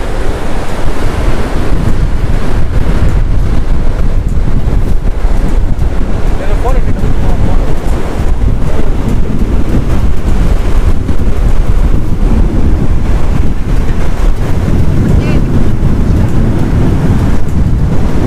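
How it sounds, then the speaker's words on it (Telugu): Large sea waves surge and crash at a rocky beach, a loud continuous roar buffeted by heavy wind noise on the microphone, with no clear break. "బా అలలు చూడు ఎంత పెద్ద."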